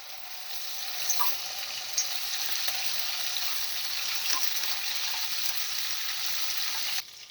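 Paneer cubes frying in hot oil for a veg dum biryani, giving a steady, even sizzling hiss with a few faint crackles, continuous and close with no talking.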